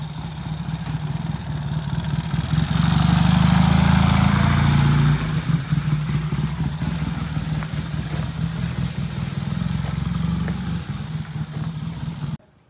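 Triumph TR6 motorcycle engine running close by, swelling to a loud steady rev early on, then settling into an uneven, throbbing idle with mechanical clatter before cutting off at the end.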